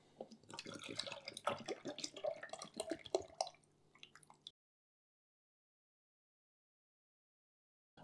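Water splashes and trickles from a jug into an aquarium CO2 setup for a few seconds, close and fairly faint, then silence follows.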